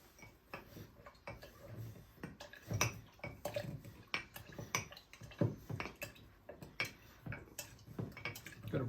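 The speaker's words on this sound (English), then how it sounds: "And now we muddle." Fresh raspberries, about eight, and around ten mint leaves being muddled for a cocktail: a steady run of close, sharp clinks and dull thuds of the muddler working against the glass, irregular and repeated with no voice.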